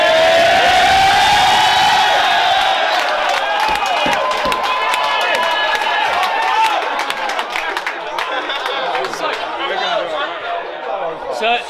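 Crowd at a Battle of the Year rap battle cheering and whooping in a loud, dense roar, with voices shouting over it and the noise tapering into chatter toward the end.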